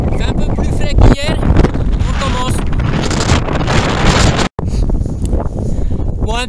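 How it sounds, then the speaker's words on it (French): Gusts of mountain wind buffet the microphone, which has no windscreen, with loud, rumbling bursts while a person talks, briefly cutting out once. "Il y a un peu de vent, je vais pas mettre ma bonnette pour juste ça."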